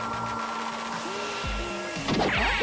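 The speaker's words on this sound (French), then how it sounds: "Son sèche-cheveux peut l'aider?" A hair dryer blows with a steady airy whir, and a short clatter and sliding tones break in near the end.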